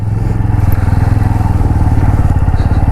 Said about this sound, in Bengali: তার আগে বাইকটা পার্ক করতে হবে